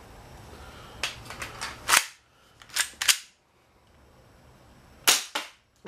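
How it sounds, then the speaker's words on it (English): An M9 spring airsoft pistol fires a handful of sharp snapping shots, a quick cluster early on, then a pair, then one more after a pause, each crisp and close with quiet gaps between. "Last but not least for my spring pistols, it's my M9"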